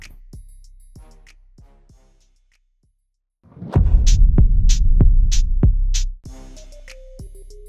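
An electric Mobygum Xenon scooter in dual-motor mode at full throttle, a loud steady motor hum with rhythmic throbbing that swells for a couple of seconds between quieter whining passages, close by.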